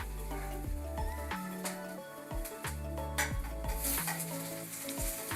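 Onions and tomatoes fry in a pan for a spicy Bombay duck curry, a continuous close sizzle broken by occasional stirring clatters, with a droning tonal hum running underneath.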